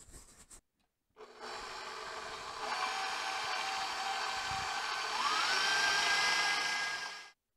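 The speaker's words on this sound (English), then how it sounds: "I'm going to start creaming the sugar and the butter" Butter and sugar being creamed together in a stand mixer for a Finnish Runeberg pastry, a steady whirring motor hum that rises in pitch partway through and runs continuously without talk.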